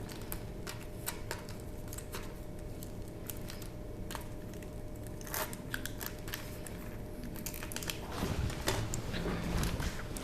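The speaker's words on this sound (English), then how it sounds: "Let me tear it because it's not opening." A stubborn package being torn open by hand, up close: a steady run of crinkly ripping and crackling bursts that grows louder and busier toward the end, with no one speaking.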